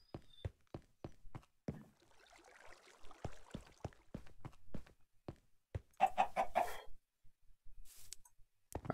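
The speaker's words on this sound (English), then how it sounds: "I'm literally just waiting for a chicken to drop an egg" Chickens cluck in short, sharp bursts amid soft footstep-like taps in a video game, a busier run of clucks near the end, with no talking.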